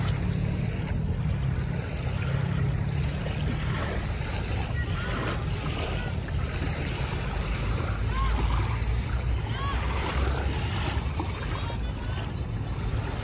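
Sea waves of Manila Bay wash continuously with gusty wind buffeting the microphone and faint voices in the background, in the morning.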